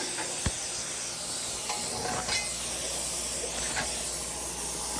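Air hissing steadily and loudly from a heavy truck tire after the air hose is yanked off, a continuous broad rush of escaping air lasting throughout, with a brief knock near the start.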